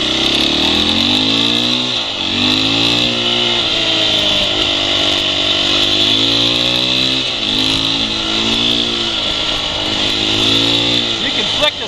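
A Husqvarna 701 Enduro single-cylinder motorcycle revs hard and climbs through the gears, its loud close engine note rising in repeated sweeps with short dips at each shift, while a rider talks over it and wind roars.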